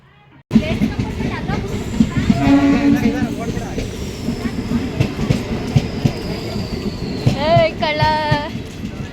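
A train rumbles and clatters steadily throughout, with rising wheel squeals and a long whistle-like tone over it, while voices talk nearby.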